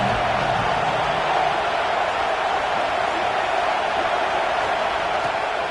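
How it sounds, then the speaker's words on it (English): Dense, steady roar of a large football stadium crowd at a college game, a constant loud wash of massed voices with no breaks or distinct words. "This crowd bringing the energy and noise early."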